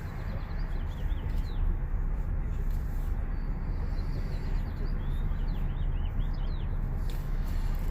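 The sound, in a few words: birds chirping outdoors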